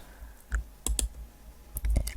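Mouse clicks on word-processor formatting buttons, with about five sharp, close clicks spaced irregularly, some in quick pairs, over quiet room tone.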